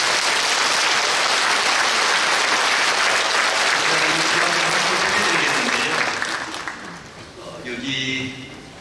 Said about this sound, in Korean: 그렇게 하신다면 박수해 주십시오.